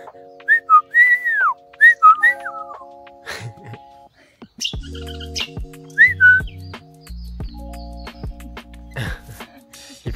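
In a forest park in New Caledonia, a grey bird answers with short rising and falling whistled notes in a few bursts, close and clear, alongside a person whistling to imitate it and talking in between.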